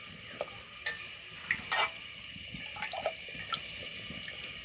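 Rice is tipped into a pot of water at a rolling boil, with a few quick splashes and pattering grains over a steady bubbling hiss, heard nearby in a home kitchen.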